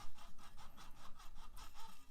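A guitar nut slot is sanded by hand in about eight quick, even back-and-forth strokes, quiet and close.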